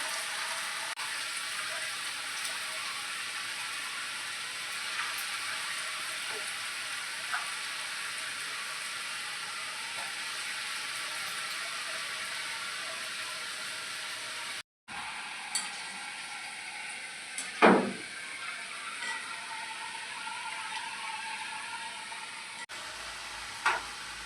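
Cabbage manchurian balls sizzle steadily in oil over a medium gas flame, a soft continuous frying hiss with a brief break and a few louder pops and stirs near the end.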